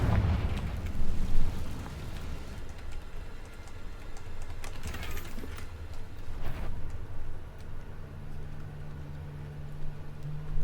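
A Confringo fire spell fired in the game Hogwarts Legacy, a booming blast with a fiery burst up front, then a low rumbling tail under faint game ambience, with no voices.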